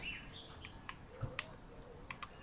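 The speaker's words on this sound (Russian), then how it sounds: "Птички поют." Birds chirp and tweet in the Worms Revolution video game, several short calls scattered over a quiet, faint ambient background with no talking.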